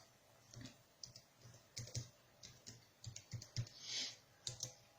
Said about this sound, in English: Okay, so basically put your password in.